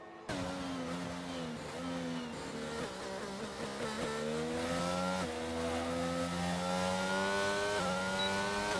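A Williams race car in a racing video game laps a circuit in Australia, its engine howling through rising revs and gear shifts, loud and continuous with a steady high whine.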